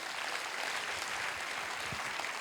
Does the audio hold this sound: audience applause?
yes